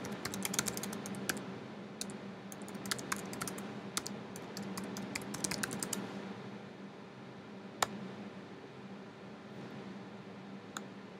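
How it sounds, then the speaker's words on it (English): A computer keyboard is typed on in quick bursts of sharp clicks for about six seconds, then falls mostly quiet with a few isolated taps over a faint background hiss. "and start typing."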